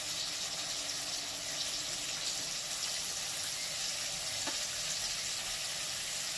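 Tomato with turmeric, chilli powder and salt sautéing in a pan for a fish curry with eggplant, a steady, loud, hissing sizzle that continues unbroken, with faint stirring underneath.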